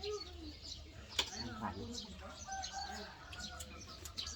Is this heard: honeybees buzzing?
no